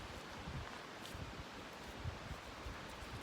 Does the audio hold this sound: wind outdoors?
yes